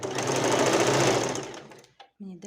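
Sewing machine stitches satin for a velour sofa cover, a loud, fast buzzing whir that runs for about two seconds and then stops, followed by a brief burst of speech.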